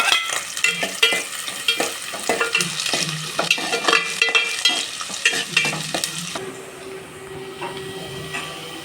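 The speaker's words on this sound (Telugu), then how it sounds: "సో ఆయిల్ బాగా మరిగింది. సో తర్వాత కట్ చేసుకున్న ఉల్లిపాయలు వేసుకున్నాము." Chopped onions sizzle and crackle in hot oil for a cabbage and prawn curry, with steady frying hiss and repeated scraping stirs of a spatula in the pan, close and fairly loud, easing to a quieter simmer near the end.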